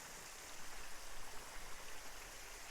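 Water flows steadily in a soft, continuous rush, like a small stream heard up close, with no voices.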